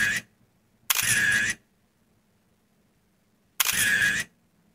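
Two crisp camera shutter clicks from a CapCut freeze-frame edit, each a sharp bright burst with a short mechanical tail, roughly three seconds apart, with near silence between them.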